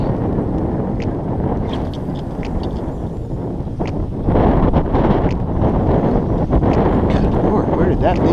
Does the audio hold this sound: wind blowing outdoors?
yes